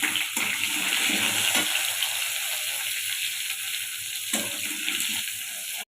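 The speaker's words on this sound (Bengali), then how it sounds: "চলো আলুটা ভেজে নিই ভালো করে" Potatoes frying in a pan give a loud, continuous hissing sizzle at close range. Two brief clatters break it, and it cuts off abruptly at the end. No one speaks.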